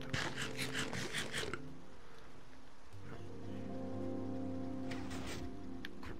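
Steady rain during a thunderstorm in the video game Minecraft, a continuous hiss under low game music tones, with brief louder bursts of rain noise near the start and end.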